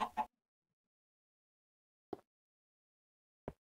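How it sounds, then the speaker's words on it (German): Chicken clucks in the Minecraft video game: three or four short, isolated clucks spaced out over near silence, fairly quiet. "War da gerade ein Huhn?"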